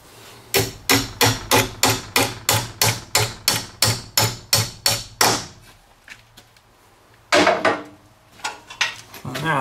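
A hammer strikes an anchor bolt into a wall in a fast, steady run of about fifteen sharp, loud, close-up blows. After a brief pause, a few more hits follow, one of them heavier than the rest.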